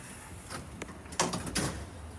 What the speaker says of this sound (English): Please mind the doors. Doors closing.